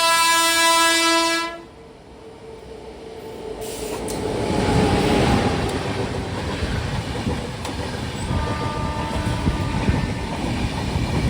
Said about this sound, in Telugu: ఇప్పుడు కూడా ఒక ట్రైన్కి అయితే క్రాసింగ్ అయితే పడింది